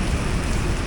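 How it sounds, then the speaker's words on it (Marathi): Heavy rain pours down on a beach, a dense, loud, continuous hiss filling a brief moment with no voices. "जोरदार पाऊस येतोय"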